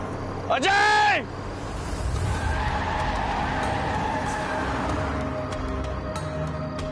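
A car skids with a loud, wavering tire squeal lasting about a second in a Marathi TV drama scene, followed by a steady engine and road rumble.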